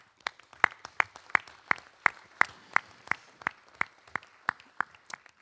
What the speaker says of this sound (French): J'ai envie qu'on les applaudisse, que vous vous applaudissiez